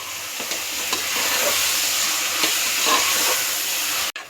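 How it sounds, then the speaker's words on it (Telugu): Coriander-mint paste stirred into a hot pressure cooker for pulao, a loud continuous sizzle and hiss with a few soft stirring scrapes, ending in an abrupt cutoff. "దాన్ని ఇప్పుడు అట్లే కుక్కర్లో యాడ్ చేస్తున్నాము. బాగా స్టిర్ చేసుకుంటా."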